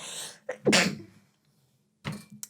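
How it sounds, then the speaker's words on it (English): A single close, loud human sneeze from someone with a stuffed-up nose: a sharp intake of breath, then the forceful burst, followed by a brief sniff after a pause. "I really have to sneeze, and my nose is, really stuffed up right now."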